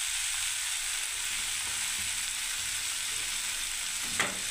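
Paneer fries in a pan for a vegetable curry, giving a steady, even sizzle with one short scrape of stirring near the end.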